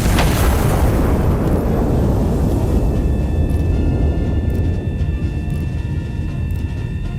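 Artillery gun in the Iron Nest video game fires and its shell explodes: one loud, heavy boom at the start, then a long rumbling decay that fades slowly under faint tonal hums.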